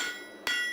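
A farrier's hammer strikes the heel of a hot horseshoe on an anvil for heavy-horse driving shoes, giving one sharp metallic clang followed by a long ringing tone, with a fainter tap just before it.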